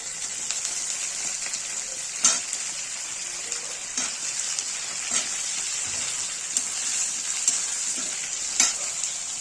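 Potatoes fry in hot oil with browned onions for a tangra fish curry, giving a steady bright sizzle broken by several scraping stirs of a spoon against the pan.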